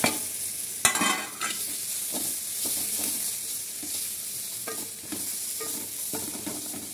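Tomatoes and coriander are stirred into a frying cowpea pod masala bhaji, the pan giving a steady sizzle with scattered spoon scrapes and clinks, one sharp knock near the start, all fairly quiet with no talk.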